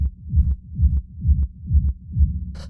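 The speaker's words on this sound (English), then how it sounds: "the way that we're making the rumble here is it's the same kick that you saw for the main kick" A deep techno kick drum rumbles in a steady rapid pulse, each low thump swelling and fading in a repeating pattern, with no voices.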